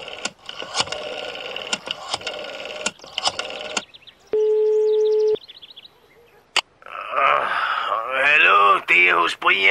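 A telephone call being dialed in a 1997 Danish film: a run of sharp dialing clicks, then a single steady ring tone lasting about a second, followed by a voice speaking.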